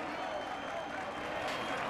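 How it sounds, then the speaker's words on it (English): A large roadside crowd on the Champs-Élysées at the 1992 Tour de France finish applauds in a steady, distant wash of clapping, with a commentator talking over it. "Tremendous applause from the crowd on the Champs-Élysées."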